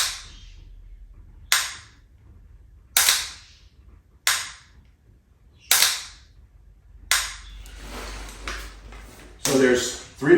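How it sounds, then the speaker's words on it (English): Rifle shots from another shooter on a 300-yard high power rifle range, sharp cracks repeating about every one and a half seconds, each with a short decaying tail, fairly close and loud against quiet background. "I hear someone else shoot."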